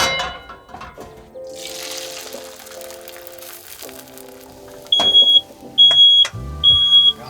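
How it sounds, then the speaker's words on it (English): A smoke alarm in a mobile tiny home sounds in three loud, piercing beeping bursts near the end, after quiet sizzling of bacon fried rice in a mini wok and clatter. "a real meal in your mobile tiny home would not be complete unless the smoke alarm goes off"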